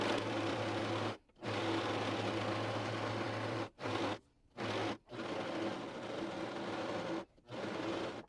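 A sewing machine, most likely a serger, stitches and trims fabric with a steady whirring hum running in several bursts, separated by short silent pauses, close and moderately loud.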